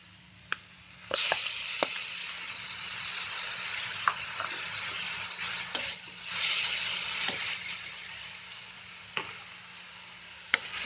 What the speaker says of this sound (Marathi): आता ह्याच्यामध्ये मी जवला टाकते.